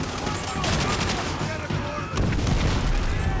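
A Thompson submachine gun fires in rapid bursts during a Call of Duty: World at War campaign battle on veteran difficulty, loud and dense with booming echoes. A second burst follows a brief dip, and a voice talks over the gunfire.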